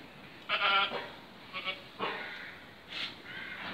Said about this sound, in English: I've now got 700 ewes.